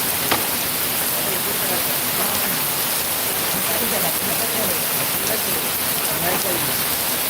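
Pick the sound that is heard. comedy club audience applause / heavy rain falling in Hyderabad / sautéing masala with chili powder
heavy rain falling in Hyderabad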